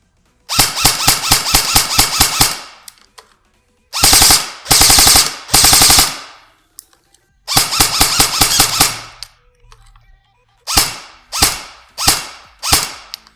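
A King Arms M4 CQB-R airsoft gun firing in rapid bursts of sharp, snappy shots, loud and close, with long strings separated by short pauses and a few shorter bursts near the end.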